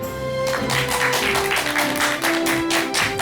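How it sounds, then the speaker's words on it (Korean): A studio audience at a televised lecture gives a big round of applause to welcome a professor, the dense clapping swelling in repeated waves over a sustained musical tone. "큰 박수 부탁드립니다"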